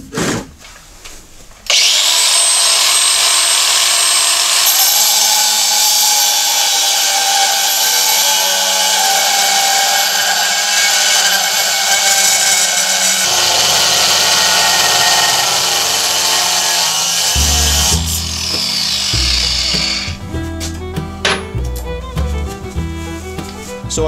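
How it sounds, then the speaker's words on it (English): An old blue Ryobi cordless grinder running on a new lithium battery cuts through a piece of metal, making a loud, steady high-pitched screech for about fifteen seconds. Its pitch drops as the disc bites, and it clatters as it winds down. "Let's go ahead and use our grinder, and let's cut a piece of metal."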